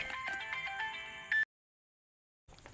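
Mobile phone ringtone chiming a bright electronic melody, close and clear, then cut off abruptly, with a brief return of the tone after a moment of silence.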